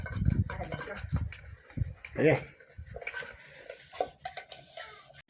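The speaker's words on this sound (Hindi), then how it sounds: "ये है देखो संजना, तुम्हारी मम्मी बर्तन धो रही है" Dishes, pots and utensils clank and scrape intermittently as someone washes them in an old village house, with loud metallic knocks and a splashy scrub near two seconds, while people talk over it.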